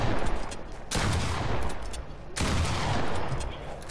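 Video game gunfire in two long, loud bursts of rapid shots, close and continuous with a brief gap between them, with faint voices underneath.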